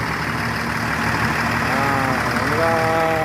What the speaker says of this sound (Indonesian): Inilah akhirnya mesin hidup kembali.